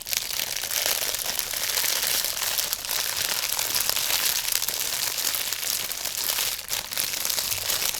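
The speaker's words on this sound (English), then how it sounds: "I'm excited about this next item. It's extremely crinkly." Crinkly plastic product packaging being handled and squeezed up close, producing a dense, continuous rustling crackle that holds steady and loud throughout with no speech.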